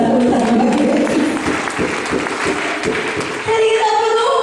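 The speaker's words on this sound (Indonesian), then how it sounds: "Berikan tepuk tangan bagi Yesus." A church congregation at Sunday worship clapping for Jesus, sustained applause running the whole few seconds over a background of singing or music, fairly loud and close.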